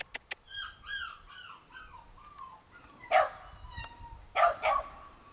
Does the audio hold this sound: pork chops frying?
no